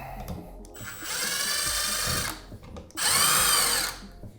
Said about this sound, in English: So we're going to take our screwdriver, undo the cover plate screw.